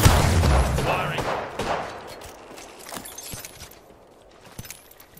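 Video game gunfire crackles in a dense burst at the start, then trails off into scattered, fainter shots and clatter, with a voice in the mix.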